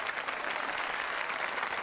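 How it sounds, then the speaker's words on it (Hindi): Applause from a crowd, a dense continuous patter of clapping hands for a couple of seconds with no talk over it. "क्या तालियां पे तालियां बजाए जा रहे हैं?"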